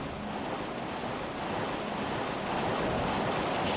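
A loud waterfall in the video game King's Field, a steady, dense rushing roar filling the scene alone and swelling slightly toward the end.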